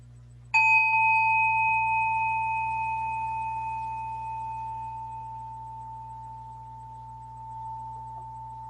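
A Zen meditation bell is struck once to close a sitting session. Its clear tone rings out and decays slowly over several seconds against a low steady hum.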